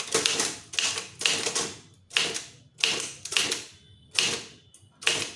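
Keys striking on a Tamil typewriter in steady, evenly spaced bursts of rapid clacking, close and loud, each run of strokes separated by brief pauses.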